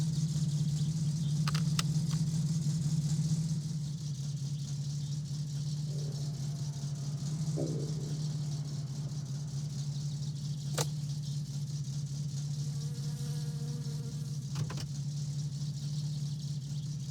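A Satsuma car engine idles steadily with the choke pushed in fully, a low, even hum and a faint rattle, running alone for a long stretch with a few light clicks.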